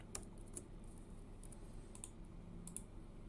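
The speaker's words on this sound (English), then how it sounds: "I type appset1.yaml" Quiet typing on a computer keyboard, with a steady run of soft key clicks and a few sharper taps, heard close and alone.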